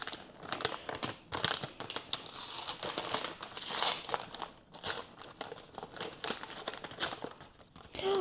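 Wrapping paper crinkles and tears nearly nonstop as an advent calendar gift, a chocolate Santa, is unwrapped close by, in busy irregular bursts without talk.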